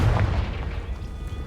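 The Confringo fire spell blasting in Hogwarts Legacy: a short, loud, booming burst with a deep low-end thump at the start, fading quickly into a brief rumbling tail.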